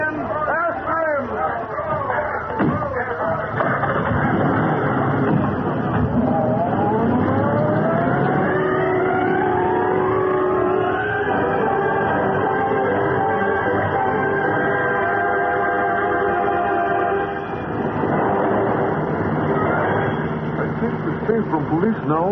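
Radio-drama sound effect of police cars starting up and giving chase: engines rev and roar loudly throughout, with rising whine as they accelerate, dense continuous motor noise and crowd-like babble underneath.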